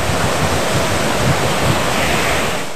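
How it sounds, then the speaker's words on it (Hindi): Waterfalls in the high, forested Gabin Jabba valley of Swat, heard as a loud, steady broadband rush of falling water with some wind buffeting, constant throughout and without talking. "खामोश वादी का सुकूत तोड़ती आबशारें"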